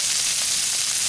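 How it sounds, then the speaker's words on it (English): Shrimp fajita seasoning, onions and peppers sauté on a Blackstone griddle, producing a dense, steady, loud hiss of sizzling close up with no talking. "We'll just let these simmer and saute."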